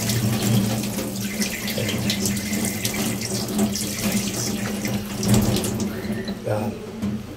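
Pig intestines are washed under a running tap, a continuous stream splashing into a sink with sloshing as they are handled, close and fairly loud, with a faint voice in the background.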